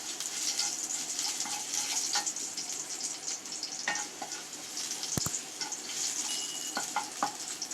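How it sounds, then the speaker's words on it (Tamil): Crushed garlic sautés in a hot pan, giving a steady, close sizzle and crackle throughout, with occasional soft clicks and scrapes of a utensil against the pan. "இப்போ பூண்டு நல்லா வதங்கிடுச்சு."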